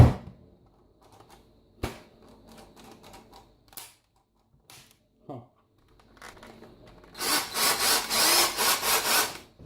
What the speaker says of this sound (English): And my drill has been playing funny now.